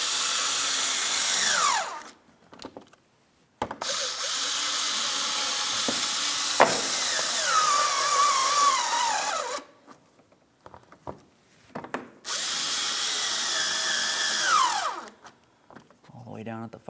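A power tool drives 5.5mm splash shield mounting bolts on a 2007-2014 Ford Edge, running in three long whirring bursts with short pauses between them, loud and close.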